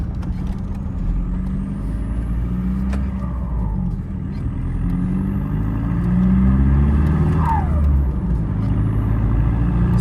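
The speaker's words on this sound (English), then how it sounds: "It is a TDI, so they're not too loud." A 2003 Volkswagen Golf 4 with a 1.9 TDI diesel engine drives along, giving a steady low rumble with road noise, fairly subdued and continuous.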